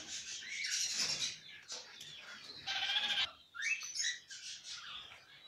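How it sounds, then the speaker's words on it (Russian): A pair of singing parrots trade chirps, squawks and warbling phrases nearby in short bursts with brief gaps. "Вот перед нами пара певчих попугаев."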